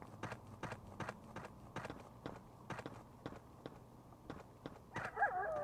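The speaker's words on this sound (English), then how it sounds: "This raptor is making human footstep sounds." A raptor in the video game Trespasser walks with footsteps that sound human: a regular series of about a dozen soft, dull steps, fairly quiet and evenly paced, with no talking.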